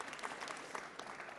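A panel audience claps briefly for a speaker, a quiet, somewhat distant patter of applause that stays even for just over a second.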